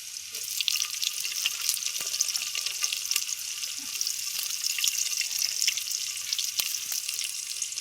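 Chopped tomatoes added to onions and cumin frying in oil in a pan, cooked outdoors under a tamarind tree for a chicken curry; a steady soft sizzle runs throughout with occasional faint clicks of stirring, no talk.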